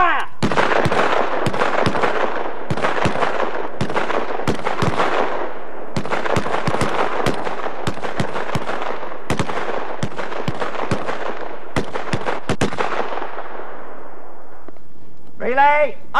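Rifle shots crack out across a cold outdoor military shooting range at 100 meters, loud sharp reports at an irregular pace, sometimes overlapping, with a short voice heard near the end.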